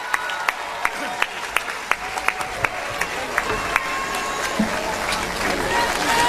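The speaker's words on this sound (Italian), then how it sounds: "Con il vostro applauso, signori, Enzo Caradonna." Audience applause at a live music show, steady rapid clapping from a crowd with a few sharper claps standing out, swelling slightly toward the end, fairly loud and continuous.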